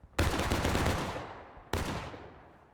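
A company musket volley in the Civil War game War of Rights: a loud, near crash of many muskets firing almost together, trailing off, then a second ragged burst of shots a moment later.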